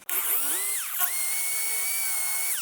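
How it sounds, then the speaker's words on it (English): A power drill bores into a metal control arm from a 1978 Corvette, its motor whining steadily at high pitch, briefly dropping and spinning back up, close and loud with no talk. "Let's go ahead and center tap and drill that out."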